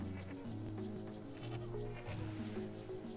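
Sheep bleating in the video game Shadow Madness, several wavering bleats one after another against a dense game background, with no talking.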